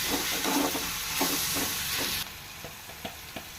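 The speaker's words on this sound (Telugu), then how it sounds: "ఇవన్నీ బాగా కలుపుతాం" Coriander and cumin powders stirred into an egg omelette curry in a hot pan make a close frying sizzle, broken by repeated scraping spoon strokes; the hiss drops quieter partway through while the stirring continues.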